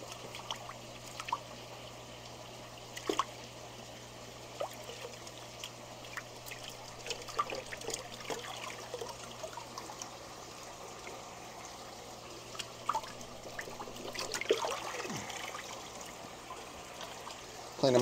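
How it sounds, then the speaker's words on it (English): Aquarium filter sponge from a saltwater tank shaken out in water, soft intermittent trickling and sloshing over a quiet steady hum, faint and close, with no talking. "cleaning my filter sponge. Just shake it on out."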